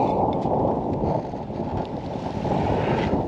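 Steady, strong wind roaring around a Jeanneau Eolia 25 sailboat under sail, a continuous dense rush with water noise and no talking.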